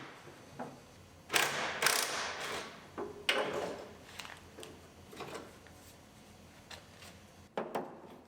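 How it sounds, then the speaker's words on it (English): A ratchet spinning nuts off studs inside the quarter trim of a Ford Mustang GT, giving quiet bursts of clicking and rattling with a few sharper metallic knocks, heard close up. "so we'll just spin the nuts off on the inside"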